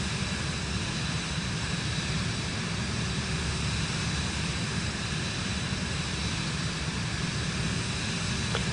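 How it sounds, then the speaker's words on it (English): Steady airplane engine drone in Microsoft Flight Simulator 2024, a constant broadband roar that holds level for the whole stretch with no talk. "I'm in a plane."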